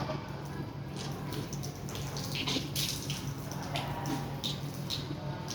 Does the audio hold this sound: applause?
no